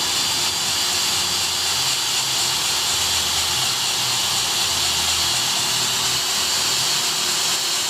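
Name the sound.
drill spinning a car engine valve for lapping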